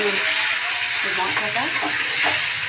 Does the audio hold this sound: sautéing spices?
yes